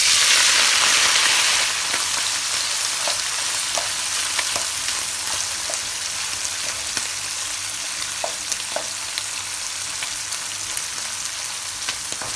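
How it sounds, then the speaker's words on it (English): Salt fish fries in hot oil in a pot, a loud dense sizzle that swells at first and then settles into a steady crackle with scattered pops. "I added the salt fish to the oil, right? My pot was hot and everything"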